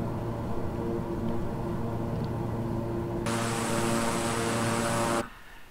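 Steady, droning engine hum of a twin-engine King Air 350i in Microsoft Flight Simulator, with a bright high whine layered on for a couple of seconds before the sound cuts off abruptly near the end.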